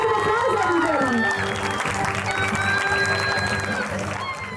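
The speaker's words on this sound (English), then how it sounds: "Can we give a very big round of applause" Audience applause for the best outgoing student chef at a culinary school student event, dense clapping with some cheering, fairly loud at first and easing slightly, with music tones and a voice audible underneath.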